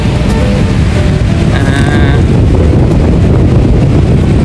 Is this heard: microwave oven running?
no